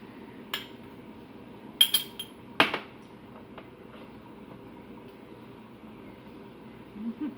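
A small spoon taps and clinks against a pot of Jamaican brown stew goat meat, a few sharp metallic clicks in quick succession, close and moderately loud, then quiet stirring.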